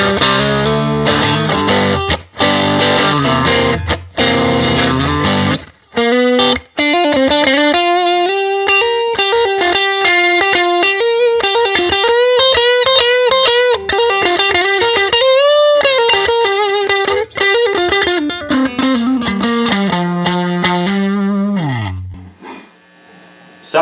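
A Fender Pawn Shop electric guitar plays loud, aggressive distorted chords and sustained bending lead notes that ring continuously, then cut off abruptly and fade to near silence at the end.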